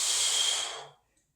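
A strong hissing exhale during a hands-free push exercise, loud and close, held steady for nearly a second before trailing off into silence.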